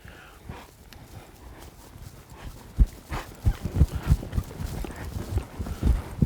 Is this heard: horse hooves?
yes